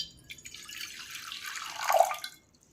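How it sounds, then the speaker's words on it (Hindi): Water pours steadily from a cup into an empty cooking pot, a splashing trickle that builds and then stops, heard close and alone with no talk. "अब ये मैं एक खाली बर्तन में 1 कप पानी डाल रहा हूँ"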